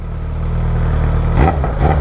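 A motorcycle with a small can exhaust and no silencer idles with a loud, rumbly throb, then gets a quick blip of the throttle near the end that roughens the sound briefly.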